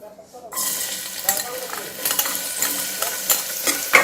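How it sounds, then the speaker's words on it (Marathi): Half a finely chopped onion hits a tablespoon of hot oil in a pressure cooker, bursting into a loud sizzle after a brief quiet start, then crackling and spattering steadily with faint scraping as it is stirred. "कांदा छान परतून घेऊ"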